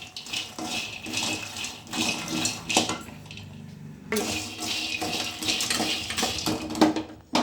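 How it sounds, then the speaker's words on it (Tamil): Lotus seeds dry-roasted in a pan until crisp, with a spoon scraping and seeds rattling against the metal in irregular clattering bursts, close and fairly quiet. "நல்லா சூடு பண்ணி மொறுமொறுன்னு ஆகிற மாதிரி வறுத்துப்போம்"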